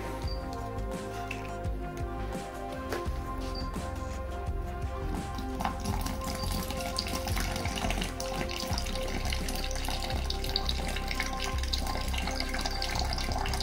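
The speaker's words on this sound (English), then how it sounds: "Fill it up nice, fresh, clean water." Water runs steadily from a tap into a container, a continuous close splashing rush that stays even throughout with no voices.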